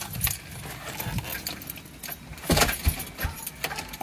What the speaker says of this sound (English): I gotta lock the door.